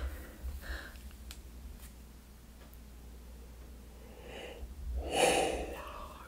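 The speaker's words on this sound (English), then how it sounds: "Big yawn." One breathy, drawn-out yawn rises near the end of a quiet, close-miked ASMR tarot reading, soft and intimate against a low hum.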